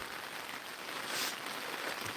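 Steady rain falling outdoors at a herb garden in Pyeongchang, a continuous soft broadband hiss with no distinct drops, fairly faint and even throughout.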